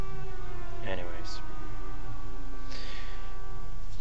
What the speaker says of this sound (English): one of the bugs in this game is that those sirens still go in the background